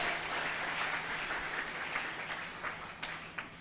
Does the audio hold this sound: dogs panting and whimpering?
no